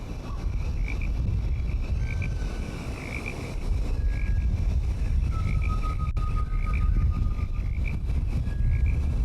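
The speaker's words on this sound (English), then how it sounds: "Some frogs, some birds out there." Ambient frogs croaking in Microsoft Flight Simulator 2020 on an evening helipad, repeated chirping calls over a steady low engine hum, with occasional longer whistling tones and birds faintly in the background.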